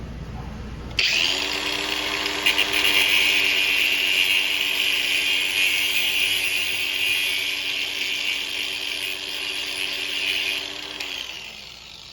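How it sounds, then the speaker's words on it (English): A large power grinder grinds off a metal part while making custom parts, a loud, steady high whine that starts abruptly and runs continuously for about eleven seconds before winding down. "I got my handy dandy grinder here, and I'm gonna go ahead and grind this off"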